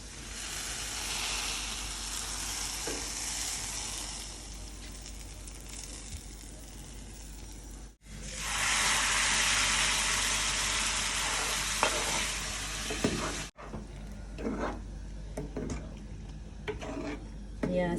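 A tasha of fried garnish poured into a pot of Syrian shishbarak in yogurt sauce, sizzling loudly and steadily with stirring, surging sharply midway before dying down to quieter bubbling.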